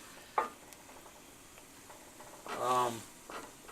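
A flour and oyster stew base cooks and gets stirred in a pan, giving a faint, steady sizzle with a few soft scraping stirs and one brief louder swish of the spoon.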